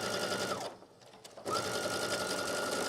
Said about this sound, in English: And stitch all the way down to the bottom.